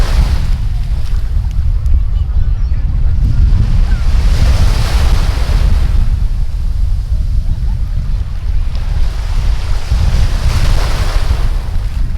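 Strong ocean waves roll in steadily on Puerto Galera beach in the Philippines, a loud continuous surf roar with heavy wind buffeting the microphone and rhythmic swells of crashing water throughout.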